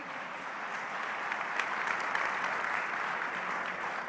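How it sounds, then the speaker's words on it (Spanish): A church congregation applauds during a sermon, a faint, steady wash of clapping from a distance with no clear voices. "Sí, dale el aplauso al Señor."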